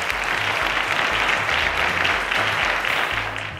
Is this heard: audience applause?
yes